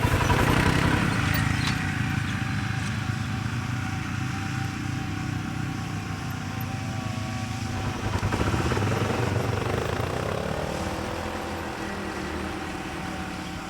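Two Arctic Cat Alterra 550 XT ATVs drag racing over about 100 feet make a steady droning engine roar that swells midway, then slowly fades.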